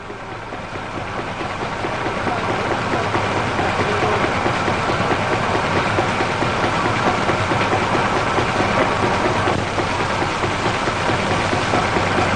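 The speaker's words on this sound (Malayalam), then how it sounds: "ഇവിടെ എഞ്ചിൻ ഓടിക്കൊണ്ടിരിക്കുക" An engine runs at idle in an old Malayalam film scene, a loud, steady mechanical rumble with a rapid chugging texture that stays constant throughout, without talk.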